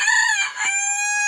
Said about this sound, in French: désolé pour le bruit du coq